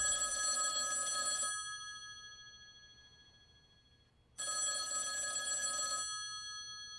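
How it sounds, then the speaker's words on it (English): An old-style telephone bell rings in two long bursts separated by a pause, loud and close, with no other sound between rings. "that phone over there is gonna ring"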